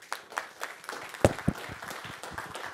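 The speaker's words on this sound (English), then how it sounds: "I think that they deserve a round of applause." Scattered hand claps from a conference audience at a cyber safety and public policy talk, with a few louder claps near the middle over a faint, thin patter.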